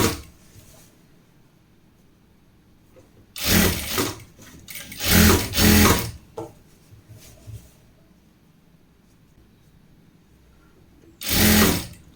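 A sewing machine stitches a 1.25-inch folded hem in fabric for an elastic casing, running in three loud close bursts of rapid whirring separated by quiet pauses.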